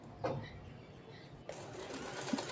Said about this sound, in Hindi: तो देखो इस तरह से हमें तीनों लाइनों को हमें सिलाई लगाकर अटैच कर लेना है इस तरह से